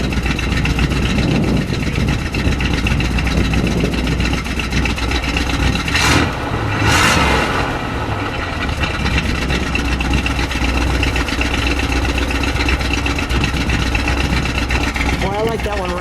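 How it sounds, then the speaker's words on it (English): A big car engine with a loud aftermarket exhaust idles with a heavy rumble, then gets a short rev that swells and falls back, close by, with people talking over the steady idle. "Can you give me one rev on that?"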